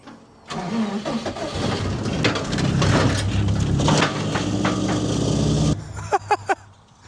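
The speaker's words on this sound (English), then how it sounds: "It's making a bad rattling noise and like the car's like vibrating" A rally car engine cranks and runs with a harsh, clattering rattle for several seconds, then cuts out, followed by a few sharp knocks.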